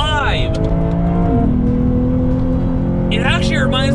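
A 2020 Lexus GS F's V8 engine revs hard, rising and falling in sweeping pitch runs with a steady loud drone between, heard close under the cabin.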